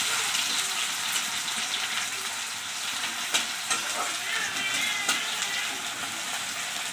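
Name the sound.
onions frying until browned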